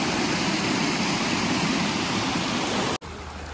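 Waterfall water rushing down a rocky stream in the hills near Mumbai and Pune, a loud, steady, broadband roar heard up close, with a brief dropout near the end before the flow resumes.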